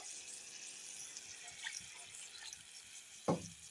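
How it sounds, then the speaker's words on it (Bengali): Water poured into a pot of dal with bottle gourd stems, a soft steady splashing stream for a few seconds, ending in a brief sharper splash. "আর এখন একটু জল দিয়ে দিই, কারণ ডাল আছে"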